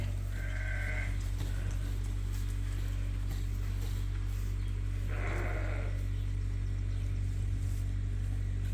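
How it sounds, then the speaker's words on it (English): Purebred Dorset sheep on a farm bleat twice, one call near the start and another around the middle, over steady low machinery hum and background noise. "We got Matthew's group on one side and the purebred Dorsets on the other."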